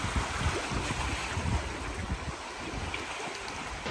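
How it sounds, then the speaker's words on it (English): Steady wind and sea wash while sailing a pocket catamaran in light wind of about 8 to 9 knots off mainland Mexico, a continuous broadband rush with low gusty rumble from wind on the microphone. "Still only have 8 to 9 knots of wind."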